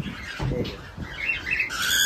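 Cockatiel chicks squawk and chirp close by in a series of rough, scratchy calls that grow louder and more insistent toward the end.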